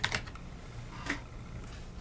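Soft, close keystrokes on a computer keyboard: a few quick taps, a pause, then another tap, faint against a quiet room.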